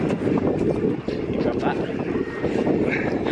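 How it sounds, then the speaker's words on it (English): Steady wind rumbles and buffets across the microphone on a fishing boat at sea during blue shark fishing, a continuous close, gusty roar with no clear breaks. "Wind."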